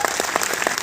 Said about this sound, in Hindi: तालियां आप सब लोगों के लिए।